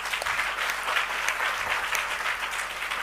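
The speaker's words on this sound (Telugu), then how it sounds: "అట్టి స్త్రీలకు ఒకసారి గట్టిగా చప్పట్లు కొట్టారు" A church congregation claps loudly together in a sustained burst of dense, even applause that fills the room without pause for the full stretch.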